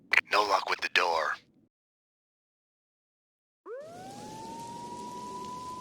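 A police siren in the video game Max Payne 2 wails up in pitch and holds a steady, moderately loud tone over rain-like hiss. A voice speaks briefly first, followed by a short silence.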